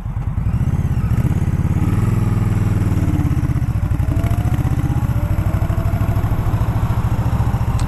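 A 2018 Indian Scout Bobber motorcycle pulls away from a standstill in fourth gear, its V-twin engine chugging loudly and close with a low, lumpy rhythmic thump as revs rise slightly and hold steady.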